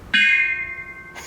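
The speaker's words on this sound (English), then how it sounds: "And this is your old-fashioned doorbell." One bright metallic strike of a mallet on an old-fashioned doorbell, close and clear, ringing with a sustained tone that slowly fades, followed by a second faint knock at the end.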